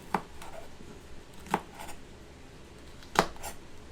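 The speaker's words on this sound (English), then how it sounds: "First thing I'm going to do is trim off the stem right there." A dull knife trims the stem off a fresh habanero on a cutting board, making three soft, separate chopping taps about a second and a half apart against quiet background.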